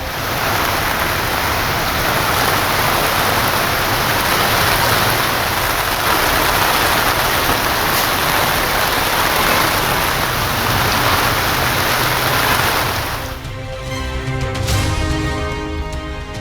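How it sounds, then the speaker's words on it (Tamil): Rain falls across the Delta districts of Tamil Nadu as a dense, loud, continuous hiss for about thirteen seconds before breaking off into a different, tonal sound. "டெல்டா மாவட்டங்களின் பல்வேறு பகுதிகளிலும் பரவலாக மழை."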